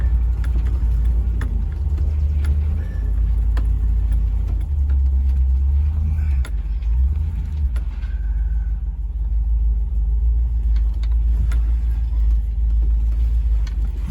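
An old Land Rover truck drives on an outing in Mendocino, California, giving a steady, loud, low engine and road rumble heard from inside the vehicle for the whole stretch, with faint rattles and no speech.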